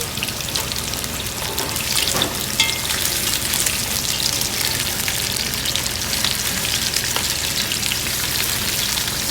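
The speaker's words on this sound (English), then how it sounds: "All nice and sizzling." Chicken skin sizzles and crackles steadily in a hot pan, a dense continuous hiss with small pops, close and fairly loud throughout.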